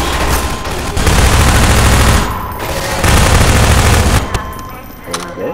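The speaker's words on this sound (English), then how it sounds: "I know I'm still getting shot at." Dense, sustained automatic gunfire from Half-Life 2 roars loudly through most of the stretch, with brief lulls and booming low rumble, then tapers toward the end.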